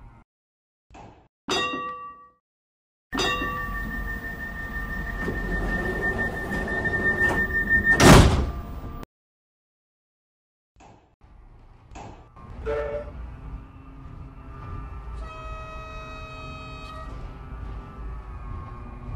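A K5000 tram in a Roblox game: bursts of door chimes and beeps, a sustained mechanical running hum with a rising whine, then a pause before clanking and tonal chimes return as the tram moves again.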